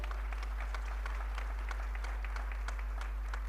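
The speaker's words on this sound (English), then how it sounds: "Let's hear a huge round of applause once again." At an international drug regulatory conference, the audience claps steadily and moderately, heard somewhat distantly over a constant low hum.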